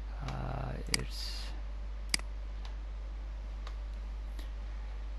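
A computer mouse clicks a few times, sharp and close in a quiet room, with isolated ticks spread apart over a low steady hum while a voice speaks briefly at the start.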